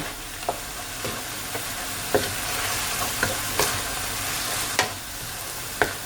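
Instant noodles being stir-fried in a pan, a continuous close sizzle punctuated by sharp, regular scrapes and taps of the spatula roughly every half second.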